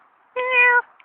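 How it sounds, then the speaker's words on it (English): A single cat meow, close and clear, lasting about half a second in a quiet room, with a faint second call starting right at the end. "Say bye to the cat, Wayne."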